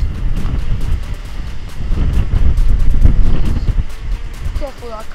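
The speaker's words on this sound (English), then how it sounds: "That wind is going to like ruin the phone" Wind buffets a phone microphone atop a water tower, a loud, steady low roar with gusting swells through the whole stretch and a few faint voices near the end.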